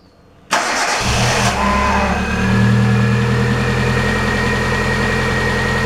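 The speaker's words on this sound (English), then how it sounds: "So I will talk to you guys now with the startup. Alright, so we're going to swing it and start it up now." A rebuilt Kia Picanto engine cranks briefly, catches on the first try and settles into a steady, loud idle, heard close up with a faint whine over the running hum and no talking.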